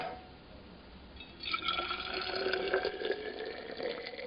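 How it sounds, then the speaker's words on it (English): Boiling water pours into a Tesco 500 ml metal thermos flask, a steady trickling fill that swells after a quiet start and rises in pitch as the vessel fills, close and alone. "let's fill this flask up"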